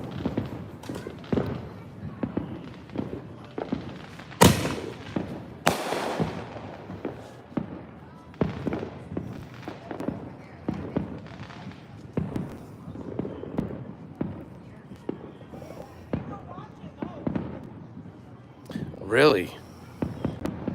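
Fourth of July fireworks going off all around a house, scattered sharp cracks and booms near and far, with people talking throughout.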